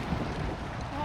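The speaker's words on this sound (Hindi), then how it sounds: "इतनी तेज़ हवा" Strong wind in a snowstorm at Niagara Falls in -24°C cold roars and buffets steadily against the microphone as one continuous, fairly loud rush.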